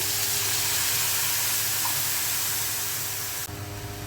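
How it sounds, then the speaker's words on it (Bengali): Water poured into a hot pan where prawn heads, onion, garlic and green chili have been frying, giving a dense, steady hiss and sizzle that fills the clip, close and loud, slightly changing in tone near the end. "পানি দিয়ে দিচ্ছি।"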